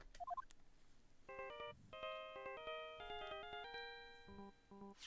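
A cell phone ringtone plays in the Ace Attorney video game as a quick melodic chime tune of bright, synthetic tones, faint and unaccompanied.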